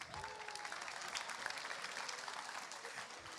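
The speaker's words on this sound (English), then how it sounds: "Give yourselves a round of applause." Audience applause at a runway costume contest at a fan convention, dense and steady for a few seconds at moderate distance, with a faint whistle or cheer rising briefly near the start.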